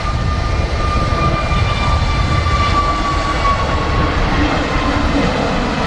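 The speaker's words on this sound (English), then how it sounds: "there goes a EasyJet A320 Neo, just rotating off 2-3 right, off to Sharm el Sheikh" An EasyJet Airbus A320neo rotating off runway 23R at Manchester Airport, a loud, sustained jet engine roar with a steady high whine running through it, with no voices over it.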